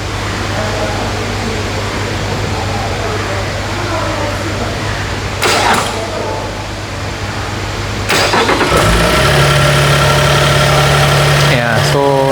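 A 2022 Lexus LX600 SUV's twin-turbo petrol V6 cranks and fires up partway through, then settles into a steady, low idling hum that continues to the end.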